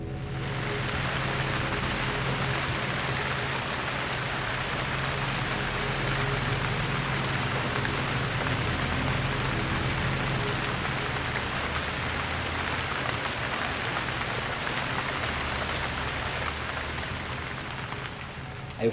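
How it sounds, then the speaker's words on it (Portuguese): Heavy rain pours down steadily in a dense, unbroken hiss that stays loud and even throughout, with no voices or thunder over it. "A chuva caía como balde de água."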